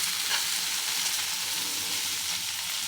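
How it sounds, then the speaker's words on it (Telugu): Taro root pieces fry in oil until golden brown, producing a loud, dense and steady sizzle with a faint hint of stirring, and nobody speaks. "ఇలా గోల్డెన్ బ్రౌన్ కలర్ వచ్చేంత వరకు కాస్త వేయించుకోవాలండి."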